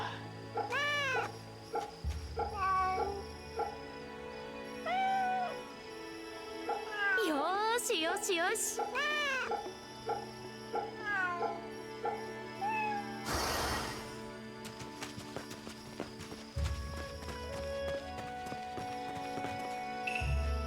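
A cat in the video game Fate/Samurai Remnant gives several short meows, spread across the passage under frequent talk, with game music and effects running throughout.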